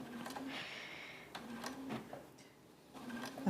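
A sewing machine runs in short bursts while stitching a few stitches on a plain quilt block, its whirring motor starting and stopping close by in a quiet room.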